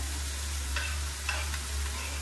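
Mushrooms fry in a pan with a soft, steady sizzle, broken by a couple of brief scraping stirs, faint and close with no talk.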